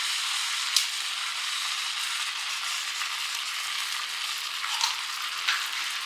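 Ghee-enriched milk mixture for kalakand stirred in a pan, giving a steady soft sizzle and scraping with a few sharp clicks of the spoon against the metal, faint and continuous with no talking.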